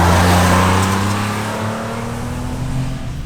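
Porsche 959 engine at full throttle in damp conditions, a loud close in-cabin roar that rises steadily in pitch as the second turbo comes in around 4,500 RPM, with no talk.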